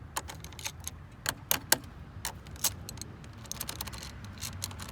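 A wrench works loose a 10 mm car battery terminal nut on a Kia Soul Turbo. It gives a quiet series of sharp metallic clicks and ratchet ticks in an uneven rhythm, close by, with no talking.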